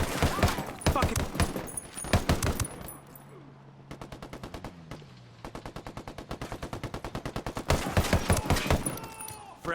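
Sustained automatic gunfire in a Ghost Recon-style tactical shooter game: rapid close bursts and long steady strings of machine-gun rounds, loud and rhythmic, with brief pauses and faint radio-style voices mixed in.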